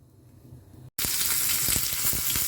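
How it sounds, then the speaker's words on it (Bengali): Brinjal paturi hits hot oil in a frying pan and sets off a loud, steady sizzle. A quiet hum comes before it and a short silent gap separates them. The crackle holds for the rest of the clip. "এবার এর মধ্যে আমি তেল দিয়েছি ফ্রাই প্যানে।"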